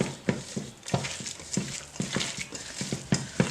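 A spoon stirs and scrapes through chicken curry masala in a pot just after a spoonful of vinegar goes in, quick rhythmic knocks and scrapes close by, steady and fairly loud with no voices.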